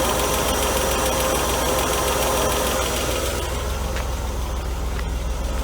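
A Mercedes W124's M103 engine idles close by after head gasket work, its steady hum carrying a light rapid ticking from new lifters still filling with oil, with a few faint clicks late on.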